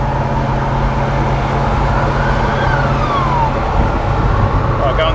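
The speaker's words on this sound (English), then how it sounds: "And it was an ambulance." An ambulance siren wails faintly in the distance over loud, steady road noise from inside a moving vehicle, with voices talking over it.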